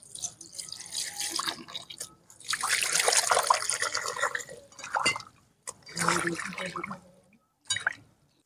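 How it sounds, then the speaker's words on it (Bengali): Pumpkin flowers are rinsed in a bowl of water, giving bursts of close splashing, dripping and trickling in several separate spells with short quiet gaps between them. "ফুলগুলোকে পরিষ্কার করে ধুয়ে নেব।"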